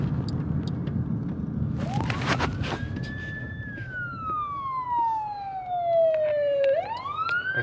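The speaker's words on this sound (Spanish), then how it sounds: "Es una bombera." A fire truck siren wails past on the street, sweeping up and then gliding slowly down in pitch before rising again, over traffic rumble.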